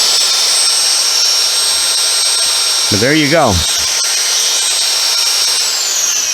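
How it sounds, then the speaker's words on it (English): A cordless power drill, run off a Shell 500W portable power station, whines steadily at a constant pitch throughout after a slightly slow startup, with someone briefly speaking over it midway. "let's try a drill on it"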